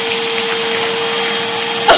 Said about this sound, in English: We're gonna vacuum off some snow.